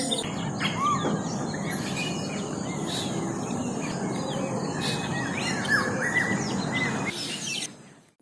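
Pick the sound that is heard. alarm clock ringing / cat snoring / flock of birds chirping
flock of birds chirping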